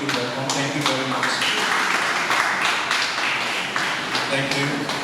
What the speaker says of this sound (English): Please, Doctor, you can give them a round of applause and make them feel welcome.